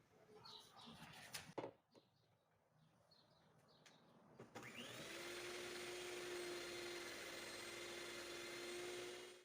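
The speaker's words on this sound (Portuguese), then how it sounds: "agora eu vou colocar as claras para bater em neve" After a few faint clatters and bumps, an electric mixer starts and runs continuously, beating egg whites for a chocolate chiffon cake with a steady high whine and whirring hum that holds for several seconds.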